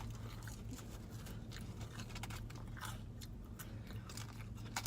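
Close, crisp crunching and biting on a funnel cake sundae, with quiet irregular chews over a low steady background hum and no talking.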